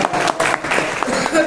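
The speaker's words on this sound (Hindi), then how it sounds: "एक बार तालियां बजनी चाहिए" An audience at a Hindi comic poetry gathering bursts into brief, loud clapping. Voices are heard over the applause.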